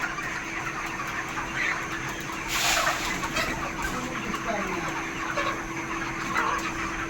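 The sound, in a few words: chickens clucking while being fed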